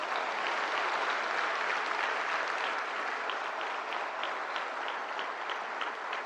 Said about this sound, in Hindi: दिव्यांग के हमारे जितने अवॉर्डीज हैं उनके लिए जोरदार तालियां